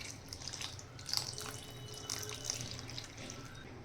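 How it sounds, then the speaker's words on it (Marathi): Bitter gourds rinsed by hand in a basin of water, with soft splashing and trickling and light drips at a close, quiet level. "इथे पुन्हा एकदा आपण हे स्वच्छ कारली धुवून घ्यायची आहे"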